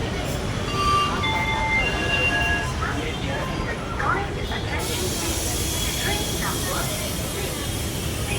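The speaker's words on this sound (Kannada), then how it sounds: "ಮಾರಿಕುಪ್ಪಂ ಬಂಗಾರಪೇಟೆಯಿಂದ ಬಂದಿರೋದು ಟ್ರೈನು" A train from Marikuppam and Bangarapete at KR Puram railway station in Bengaluru, heard as a steady rumble with hiss and faint squeals, continuous throughout, with talk in the background.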